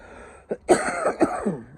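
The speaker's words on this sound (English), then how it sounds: "thought I could get through this without coughing too much" A short run of close, throaty coughs and throat-clearing in a garden, one quick burst followed by several rough hacks in a row.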